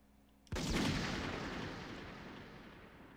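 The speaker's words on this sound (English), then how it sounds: "Takaharu freed himself from Aigis' grip and pulled out a gun" A single loud gunshot in a Persona 3 Portable cutscene, a sharp crack followed by a long, booming echo that slowly fades.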